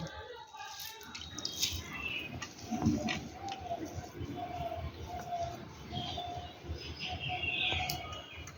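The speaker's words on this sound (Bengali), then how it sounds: "এবার ভালো করে ধুয়ে জল এরকম চেপে চেপে নিয়ে তুলে নেব" Grated raw mango is rinsed and squeezed by hand for a sweet-sour pickle, giving soft, quiet splashing and trickling water in short bursts, with faint chirps in the background.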